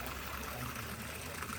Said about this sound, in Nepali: त्यो काठको मुढाबाट चाहिँ यसरी पानी आइरहेको छ